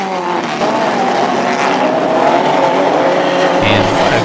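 Cars running an exhibition race on an oval track at the grand opening of the KRP Oval, a loud, continuous engine roar with passing swells and tire noise, while an announcer talks over it.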